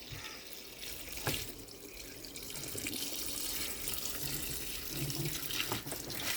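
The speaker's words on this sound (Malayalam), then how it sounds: "നമ്മളതിലേക്ക് ആവശ്യാനുസരണം വെള്ളം ഒഴിച്ച് കൊടുക്കുക" Water pours steadily into a container for washing, a continuous splashing rush close by that swells slightly as it fills, with a couple of sharp knocks partway through.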